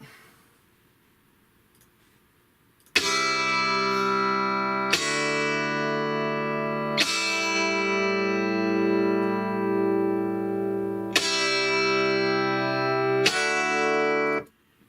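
A doubled, clean Strat-style Chellee electric guitar track plays an 80s-style clean part: five sustained chords strummed in turn, each left ringing, full and loud with no talk over it.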